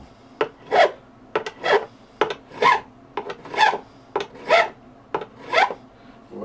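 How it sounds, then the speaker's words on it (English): A metal file rounds the ends of guitar frets during a refret, giving about eight steady, close rasping strokes in an even back-and-forth rhythm with brief pauses between them. "Instead of the bevel, I take this file and continue the radius."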